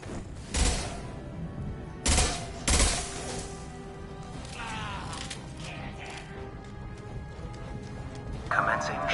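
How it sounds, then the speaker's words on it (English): Bursts of gunfire in the video game Mass Effect 2, with two or three sharp volleys early on and then a steady rumble of battle underneath, while a voice talks over the action. "They're making another push. I'm taking some fire,"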